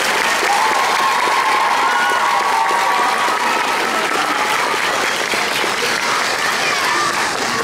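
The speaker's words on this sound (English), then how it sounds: "Can we give her applause?" An elementary school audience bursts into loud, sustained applause with cheering after a 5th grade play. The clapping is dense and steady for nearly eight seconds, with scattered shouts and voices mixed in.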